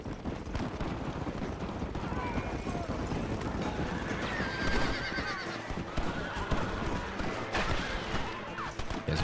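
Horse hooves clip-clopping alongside a whinny in the Red Dead Redemption video game, set within dense, busy game audio with talk and other effects layered over it throughout.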